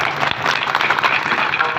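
Audience at a kirtan clapping together, a dense, steady wash of many hands throughout, fairly loud and close.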